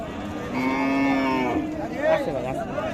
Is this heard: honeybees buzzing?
no